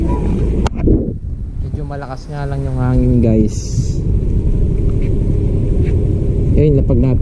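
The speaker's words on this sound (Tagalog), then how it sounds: "Medyo malakas nga lang yung hangin guys." Strong wind buffets the microphone with a constant low rumble during a DJI Neo 2 drone test flight, while a person talks over it.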